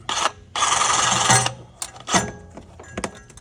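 A line is cut through while a hydraulic pump is installed on a turbocharged vehicle, with a short rasping scrape followed by a longer, loud, steady grinding rasp, then a few scattered scrapes and knocks up close.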